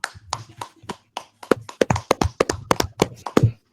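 A few people clap by hand in a podcast studio, crisp separate claps in an uneven, quickening rhythm, close and clear over a quiet background.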